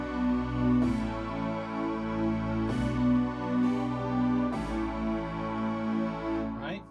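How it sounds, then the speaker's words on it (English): A layered analog synth choir pad in the style of the Oberheim OBX holds sustained, breathy chords with a few soft percussive accents, steady and moderately loud with no voices talking. "that sound you're hearing mixed in is a choir. From the Oberheim OBX, an analog choir sound"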